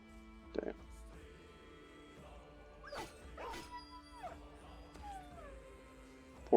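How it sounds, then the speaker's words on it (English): War dogs in the medieval combat game Battle Brothers yelp and whimper in short, sharp bursts amid clashing battle noise, with a spoken voice over the mix. "Poor dogs. I hate that sound."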